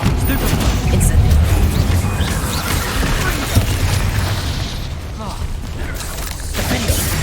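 Incendio fire spell being cast in combat in Hogwarts Legacy, a dense continuous roar of booming, crackling blasts and rumbling impacts, loud and close, with a voice shouting over the fight.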